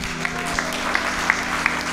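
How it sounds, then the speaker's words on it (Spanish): A church congregation applauds during a service, giving a steady wash of clapping with a few sharper claps standing out, spread evenly across two seconds. "¿Por qué no le damos un fuerte aplauso al Señor?"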